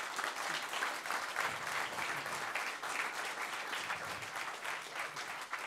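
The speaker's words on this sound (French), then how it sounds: "c'est eux qui méritent les applaudissements surtout" An audience applauds after a talk on mutualism and open source, producing dense, even clapping that fills the room at a steady level throughout.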